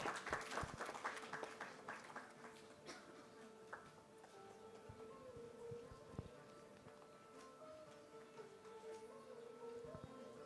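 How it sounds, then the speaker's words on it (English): Audience applause at a gerontology conference hall, a steady patter of clapping from a seated crowd that gradually thins over about ten seconds. "Please give a big round of applause."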